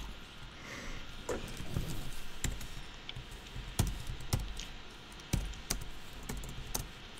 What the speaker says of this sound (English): I hate this freaking keyboard.